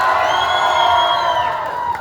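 A crowd at a closing celebration cheers and whoops loudly, with shrill high voices riding over a dense roar for a couple of seconds, little clapping standing out.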